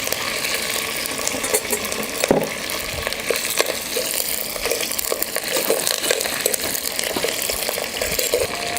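Garlic and dried red chillies sautéing in a pan for crab curry, a dense steady sizzle with rapid crackling and intermittent scraping clicks, close and fairly loud with no voices.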